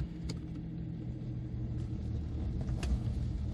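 A 2002 BMW 330d SE (E46) diesel engine rumbles low and steady as the car pulls away, with road noise building slightly over a few seconds.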